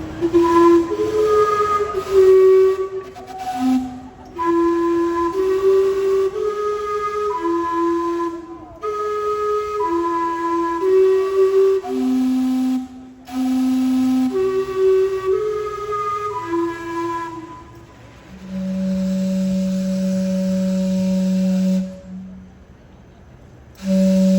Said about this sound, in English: Only in Vancouver can a heating vent become a tourist attraction.